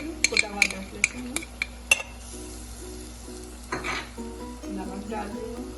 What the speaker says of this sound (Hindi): मैं इसमें अदरक लहसुन डालूंगी, कुटा हुआ अदरक लहसुन